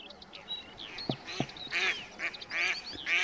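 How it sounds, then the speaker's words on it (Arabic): Mallard duck calling outdoors in freezing winter weather, a series of nasal quacks near and far over faint wind, with other birds in the background. "البط الخضاري بعيد، بعيد نوعا ما، لكنه موجود في المنطقة"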